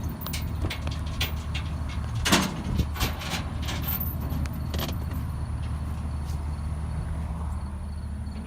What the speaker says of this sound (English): You mind if I open the door real quick?